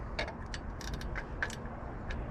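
A 1/2 inch ratchet works on bolts of a Ford 7.5L 460 big block engine during intake manifold removal, giving quick, faint metallic clicks in a short rapid series, heard close and alone.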